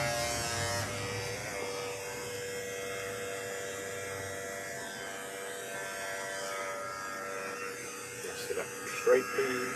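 Electric hair clipper buzzing steadily at close range against a scalp during a dandruff and scalp conditioning treatment, a continuous whining hum with a few brief bumps near the end.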